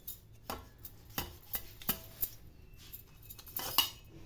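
A kitchen knife cuts marinated fish into pieces on a board, producing sharp, irregular taps and knocks at close range with quiet pauses between them and no voices.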